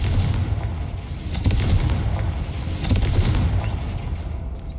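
A Confringo blasting spell goes off in the Hogwarts Legacy video game, a loud booming explosion with a heavy low rumble and repeated bursts that keep rolling through the whole stretch.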